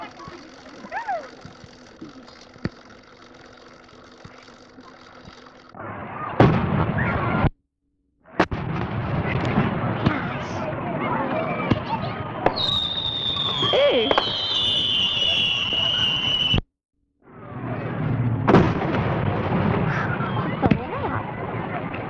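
Old 8 mm film sound from a 4th of July 1973 fireworks display, with repeated bangs and crackling bursts over a running mechanical drone, a whistling tone midway, and brief silent gaps between segments.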